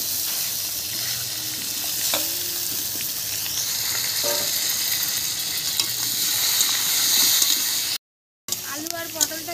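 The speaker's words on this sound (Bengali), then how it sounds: "পটল আর আলুটা ভেজে নেবো ওই তেলেই" Pointed gourd and potato frying in oil on an open rooftop: a continuous bright sizzle and crackle with occasional clatter of a spatula, a brief cut near the end, and a voice briefly audible over it.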